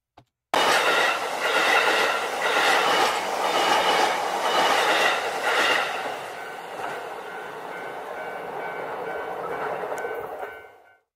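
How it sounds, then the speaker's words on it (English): A train rumbles steadily past with rhythmic wheel clatter and a metallic hiss, loud and close, fading out at the end. "I see a train going by."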